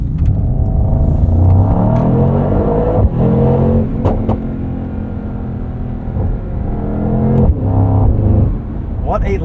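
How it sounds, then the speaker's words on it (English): A 2024 Mercedes-AMG GT63 coupe launches hard with all four tires spinning, its engine roaring loud and close in rising pulls with brief gear-change dips, while a driver talks over it throughout. "Got wheel spin from all four tires on that first launch."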